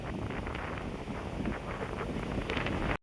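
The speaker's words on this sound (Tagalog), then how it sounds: "Ang lakas ng hangin dito." Strong wind buffets the microphone in a steady, loud roar with gusty rumbling throughout, no voices.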